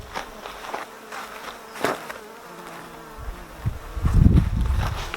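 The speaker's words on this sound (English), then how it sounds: "the bees come up this hole and crawl down the side and take the feed" Honeybees in a nuc hive buzz steadily close by during a UK hive inspection, with brief knocks and handling noises and a louder rumbling burst near the end.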